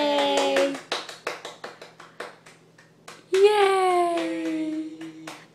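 A small child claps hands at home, a short run of light, fairly rapid claps between bursts of an adult's sing-song voice and cheering, close and soft.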